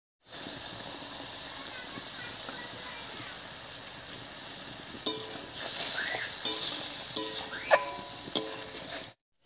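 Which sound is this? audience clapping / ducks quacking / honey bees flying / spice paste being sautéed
spice paste being sautéed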